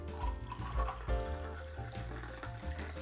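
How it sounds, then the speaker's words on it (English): Water is poured into a cup of turmeric tea made with grated ginger, ghee and pepper, a quiet, close liquid trickle with gurgling bursts and no voices. "Top it with some water."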